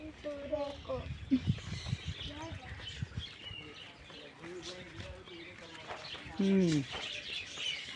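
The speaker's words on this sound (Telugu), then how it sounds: "అల్బినో చిరుచిలుక అంటే ఇది అంటే చిన్న జాతి పక్షి" Short, sharp calls and chirps from an albino parakeet at a zoo break out repeatedly, mixed with other birds and people talking nearby.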